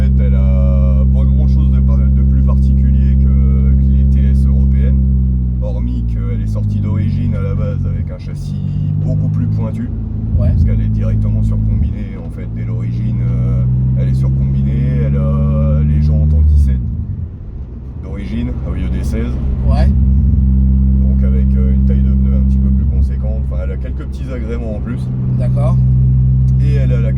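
Engine of a Toyota Celica GTS heard from inside the moving car: a loud, steady low drone that rises and falls with the revs, under continuous talking.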